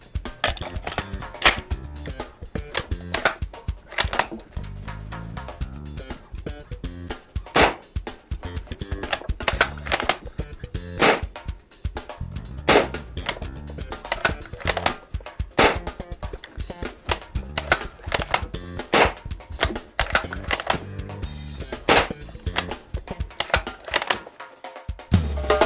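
Mosin-Nagant 1891 CO2 BB rifle loaded with steel BBs, fired in a long series of sharp, loud cracks at irregular intervals with a few quick pairs, each shot standing alone and clear without any voices over them.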